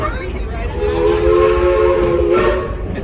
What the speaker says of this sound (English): that whistle up ahead is our engineer up there trying to warn you we're starting down the steepest hill